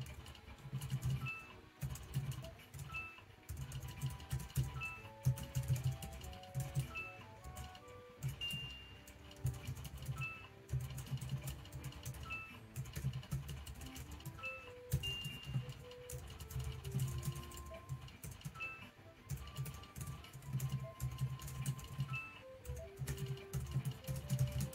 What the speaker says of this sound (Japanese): タイピングする感じを見といていただければいいかなと思います